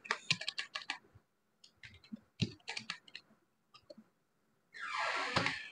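Typing on a computer keyboard while writing CSS code, with quick clustered key clicks in short bursts and pauses, close and fairly quiet, ending in a longer rattling clatter.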